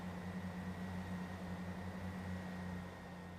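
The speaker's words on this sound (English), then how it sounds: "there are several individual power cars making noise there" Several diesel power cars of a train on the Huddersfield Line drone steadily, a low humming engine rumble with a faint higher whine, continuous and fairly quiet with no talking.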